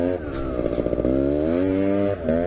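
Engine of a quad bike with a brand-new motor being run in, a loud buzzing drone that rises and falls in pitch, revving up and easing off, heard close.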